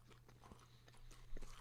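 Close crunching and biting on crispy McDonald's chicken nuggets, several short crackly bites in an uneven rhythm over a low steady hum, with no talking.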